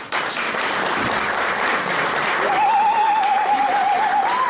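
Audience applause at a Congolese community gathering in the Washington DC area, a dense steady wash of clapping from many hands throughout, with a faint whistle-like tone rising through the second half.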